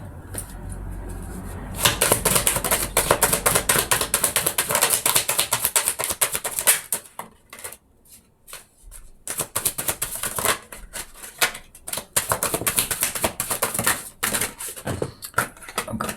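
Tarot cards being shuffled by hand, some cards falling loose, giving dense rapid riffling and slapping bursts with a short pause midway, close and fairly loud, with no talk.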